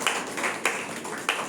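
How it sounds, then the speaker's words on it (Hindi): A church congregation claps along in rhythm during a Hindi-language worship service: a run of roughly even, crisp clapping bursts at moderate distance, with no voices over them. "ताली बजा कर प्रभु को धन्यवाद करेंगे"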